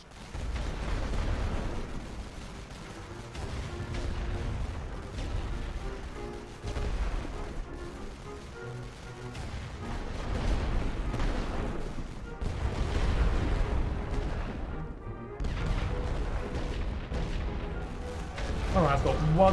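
Artillery barrage in The Great War: Western Front, a World War I strategy game, with repeated heavy booms and rumbling explosions rolling in waves over a dense battle din, with a voice speaking at times.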